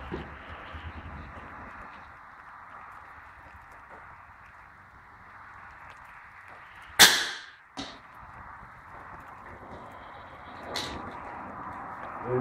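One sharp FX Boss 7.62 air rifle shot snaps over a low background hum, followed moments later by a fainter second pop and a soft distant knock.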